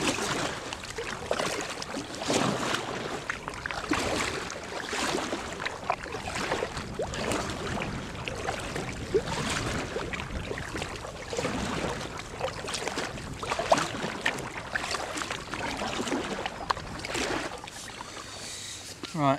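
An inflatable kayak heads into the wind under a makeshift sail, with gusty wind buffeting and water splashing in uneven bursts around the hull, while someone talks over it.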